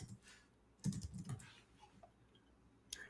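Fingers type a short run of keystrokes on a computer keyboard, a clustered burst of close clicks, then a few scattered taps in a quiet room.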